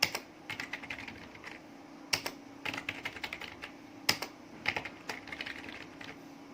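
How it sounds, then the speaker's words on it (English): Quiet clicks of typing on a computer keyboard, the keystrokes arriving in irregular bursts with short pauses and a few sharper, heavier presses, close and alone in a calm room. "I'll keep on typing anything."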